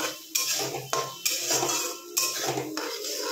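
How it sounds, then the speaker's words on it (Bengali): A metal spoon scrapes and clatters around a pan of doi katla fish curry after salt goes in, loud close strokes in a quick uneven rhythm with sharp clinks, no voices. "নুন দিয়ে এটাকে আবার ভালো করে নেড়ে চেড়ে নিতে হবে।"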